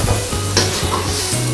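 Garlic shrimp with cornstarch and shrimp heads sizzling loudly in a frying pan, stirred with a few quick scraping strokes, close and continuous with no talk.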